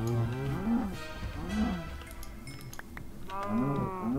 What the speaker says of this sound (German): Kühe sind immer gut.